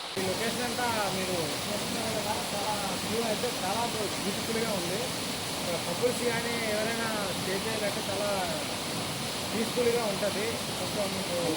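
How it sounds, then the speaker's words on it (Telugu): A forest waterfall pours with a steady broad rushing hiss, continuous and fairly loud, while a person talks over it throughout. "వాటర్ ఫాల్ చూశాక మీరు మర్చిపోతారు అట్లా ఉంటుంది వాటర్ ఫాల్"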